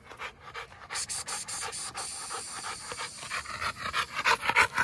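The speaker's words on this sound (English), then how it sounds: "Look at this big fat Camelot dog." An American Bully dog pants heavily in quick, rhythmic breaths, close and loud, continuing steadily and growing stronger after exercise.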